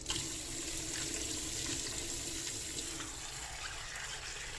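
Soaked soybeans are washed under running water, a steady, soft splashing stream from a tap that continues throughout without pause.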